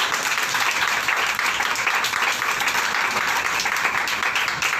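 Church congregation in Punjab clapping loudly and steadily, a dense, continuous wall of hand claps close to the listener.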